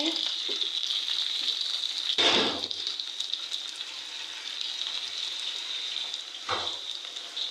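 Onions fry in a pan with a steady, close hiss of sizzling oil, broken twice by brief louder bursts of stirring or scraping, with no speech over it.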